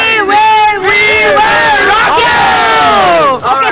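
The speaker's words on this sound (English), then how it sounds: "They're hooting, cheering, they're practicing." Cricket fans hoot and cheer together in a loud, close crowd, with whoops and rising and falling shouts packed densely over one another the whole time.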